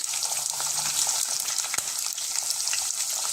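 Vegetables for veg biryani, onions, carrot, beans, green chillies, capsicum, potato and curry leaves, sizzle steadily in a pan while being stirred, a continuous close frying hiss with a faint scrape of the spoon.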